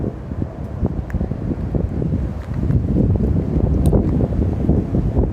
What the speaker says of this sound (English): wow, that wind's cold.